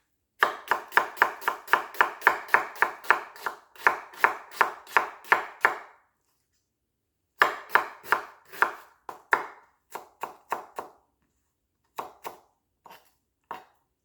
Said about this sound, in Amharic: ድቅቅ አድርገን እንከትፋለን